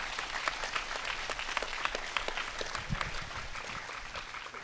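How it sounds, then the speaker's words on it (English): A university keynote panel audience gives a round of applause, fairly faint but continuous clapping with individual claps standing out throughout. "Can we give her another round of applause?"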